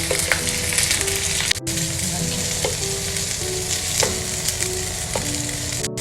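Beef pieces sizzle loudly in a hot pan for dragon beef chilli dry, a dense, crackling fry with a few sharp pops and spatula clinks throughout.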